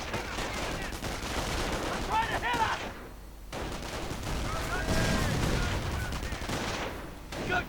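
Gunfire and Panzerschreck rocket shots in a video game battle, overlapping bursts of shots and heavy blasts in two loud stretches split by a short lull, with a voice commentating over the fighting.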